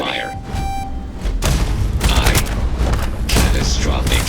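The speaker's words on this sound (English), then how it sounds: "Opening fire." Starship weapons in Starfield open fire in a rapid series of heavy booms and thuds, loud and sustained, with an electronic ship voice and alert tones at the start.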